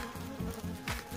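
Bees buzzing around a small nucleus hive in a brief, faint hum with a few pulsing swells as insects pass close by.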